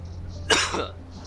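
A single sharp cough from a livestreamer, close to the microphone and loud against a low steady background hum, lasting about half a second.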